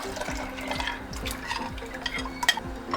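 Ground rice is stirred in a pot on a high flame for a gajrela kheer, giving repeated soft scraping and sloshing strokes at a steady rhythm, close up, with a faint clink near the end.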